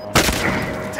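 One sharp burst of gunfire cracks out at close range in Call of Duty: Modern Warfare Warzone on Rebirth Island, then trails off into a brief rumble.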